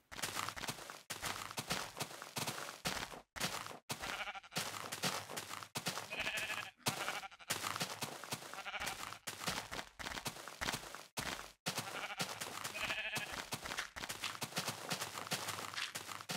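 Repeated sheep bleats from Minecraft Pocket Edition ring out over a dense, steady bed of game sounds and music, with a couple of distinct cries standing out clearly.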